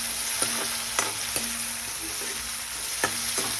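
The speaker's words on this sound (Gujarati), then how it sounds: "મરચાં, ટમેટું, બધો મસાલો નાખી જરીક એને સાતળવાનું છે।" Chillies, tomato and masala sauté in a hot pan with a continuous sizzle, punctuated every second or so by sharp spatula clinks as the mixture is stirred, with no voices.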